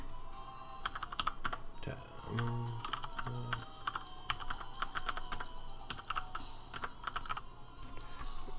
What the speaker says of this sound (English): type in all of his stats here